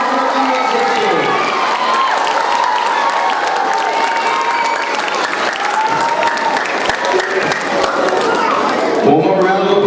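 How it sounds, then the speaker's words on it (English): Audience at an elementary school spring concert gives the musicians sustained, loud applause, with clapping filling the room throughout and some cheering mixed in. "Let's give them all one huge round of applause."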